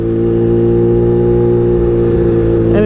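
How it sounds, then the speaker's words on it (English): A Kawasaki Ninja H2 supercharged motorcycle drones loudly up close, its steady whining tone rising slightly as the supercharger spools up, with a brief change near the end. "The way the supercharger spools up"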